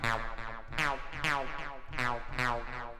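A plucky techno synth patch built in Ableton, pitch envelope time set to 32%, plays a bright repeating sequence of short notes that each drop quickly in pitch, with a steady bouncy rhythm and no voices.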